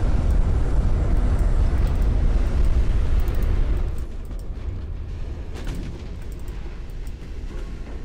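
Heavy torpedo explosions hit a warship in the naval battle game Ultimate Admiral: Dreadnoughts, a loud, sustained low rumble of blasts and roiling water that drops to a quieter rumbling wash partway through, with no talk.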